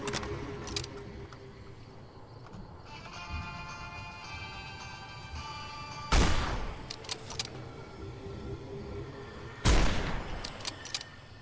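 Gunfire in the video game Fallout while sniping a Deathclaw, two loud sharp shots several seconds apart over a quiet ambient game background with a faint tonal hum.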